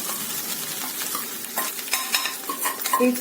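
Grated fresh coconut sizzles and is stirred in a pan for a coconut and chana dal curry, a steady close frying hiss with light scraping strokes and no talking.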